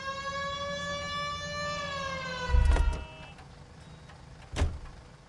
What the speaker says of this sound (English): Turn on the siren and pull her over.